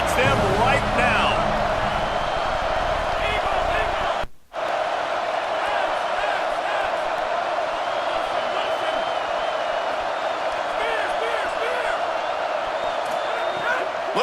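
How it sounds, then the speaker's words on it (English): Stadium crowd in a College Football 27 video game keeps up a steady, dense roar, with a brief dropout near the start, under a commentator's continuous play-by-play. "This crowd knows this defense needs them right now."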